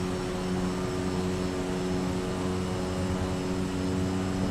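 A steady, even drone from a regional jet's engines in Microsoft Flight Simulator, with tonal hums held unchanged throughout and no other sounds.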